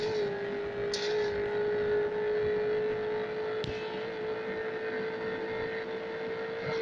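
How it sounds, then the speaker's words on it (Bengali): A car engine holds a steady drone during a drag race in a driving simulator game, with an even, continuous hum and no clear revving, and two brief faint clicks over it. "ড্র্যাগ রেসিং করি এখন"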